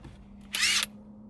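Short burst of an impact wrench on the 19mm steering wheel bolt of a Nissan 350z, one brief sharp whirring rattle of about a third of a second, close and fairly quiet.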